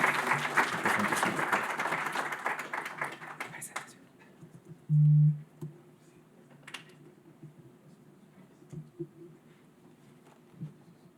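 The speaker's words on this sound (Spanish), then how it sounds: "Vamos a darles un fuerte aplauso a los dos" Applause from an academic session audience for two debaters, a dense patter of clapping for the first few seconds that fades out, followed by quieter room tone with a brief low hum.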